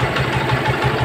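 Modified Union Star motorcycle fitted with a loud, stiffened silencer idles close by, giving a steady, rapid thumping exhaust pulse.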